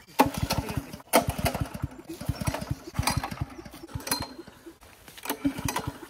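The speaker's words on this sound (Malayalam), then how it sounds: "നമ്മള് മോട്ടർ സ്റ്റാർട്ട് ചെയ്യാൻ പോണ കേട്ടോ." A water pump motor is cranked repeatedly by hand at a pond, giving rapid rhythmic mechanical clattering bursts that sputter but never settle into steady running.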